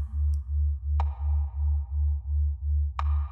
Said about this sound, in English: Focus on the tick and the tack of this sound.